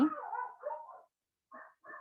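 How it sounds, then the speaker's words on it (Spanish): Dogs bark in a home, a drawn-out whining bark followed after a short silence by two brief sharp yips, fairly close and with no talk over them. "que mis perros están ladrando"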